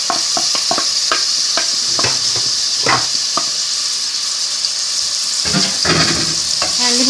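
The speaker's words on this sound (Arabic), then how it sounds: "احنا حاطين اهو 3 معالق زيت، وهنزل عليهم كده بالبصل بتاعي" Onions fry in three spoonfuls of oil, a steady close sizzle broken by repeated scraping and stirring strokes, with no talk.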